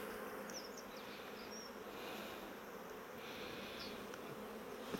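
Honeybees buzz inside an opened hive as a beekeeper lifts frames of brood, making a dense, steady swarm drone close by that holds at an even loudness throughout with no voices.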